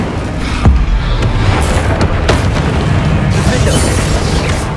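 Incendio fire spell blast in Hogwarts Legacy, a loud whooshing burst of flame with a sharp boom near the start and a sustained roaring rumble afterward, amid other spell effects during combat.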